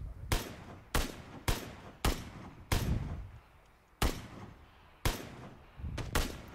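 Video game gunfire aimed at the player: a rapid string of about a dozen sharp, loud shots in irregular bursts, each cracking out and then fading briefly.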